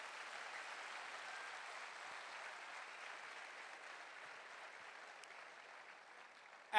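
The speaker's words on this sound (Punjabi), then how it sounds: "ਮੈਂ ਚਾਹਾਂਗਾ ਇੱਕ ਵਾਰੀ ਜ਼ੋਰਦਾਰ ਤਾੜੀਆਂ ਹੋ ਜਾਣ ਸਰ ਵਾਸਤੇ" Audience at a motivational success-day event in Jalandhar applauding, a sustained, even wash of clapping heard from a distance and fairly faint, with no talk over it.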